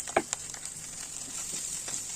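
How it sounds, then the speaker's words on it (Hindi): Boiled potatoes stir-fried in a pan with red chilli powder and salt give a soft, steady sizzle with a few light scraping stirs and taps near the start. "अब हम डालेंगे बॉयल किए हुए आलू और सबको डाल के हम इस ढंग से हिलाते हुए लगातार इसको हम भून लेंगे"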